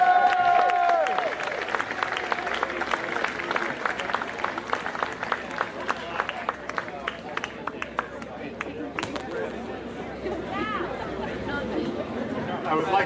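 Crowd applause and chatter at an outdoor Peace and Freedom Rally, steady clapping mixed with murmuring voices that gradually thins out over the stretch.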